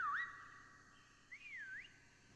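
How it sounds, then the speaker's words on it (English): Melodic whistling from a player in a Call of Duty Cold War prop hunt match, two short rising-and-falling phrases, one brief and one longer, clear and fairly close over a quiet background. "You can whistle?"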